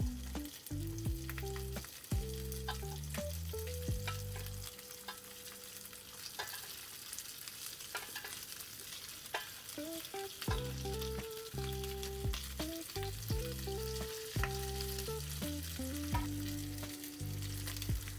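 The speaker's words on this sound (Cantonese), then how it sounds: "而家我哋將啲豆豉鯪魚都擺落去煎香佢" Canned black bean dace fish frying in a hot pan with garlic; a steady sizzle runs throughout under loud, prominent melodic background music.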